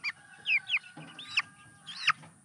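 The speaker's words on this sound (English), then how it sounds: "We've been trying to breed a funny looking chicken for a while." Chickens clucking close by in a brooder setting: a few short, sharp clucks and squawks in quick bursts against a quiet background.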